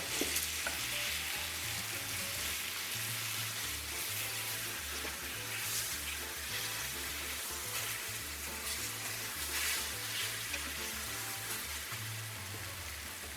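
Golden-brown chicken thighs sizzle in a pan after being flipped, a continuous even frying hiss with light crackle and occasional utensil movement, steady and close throughout.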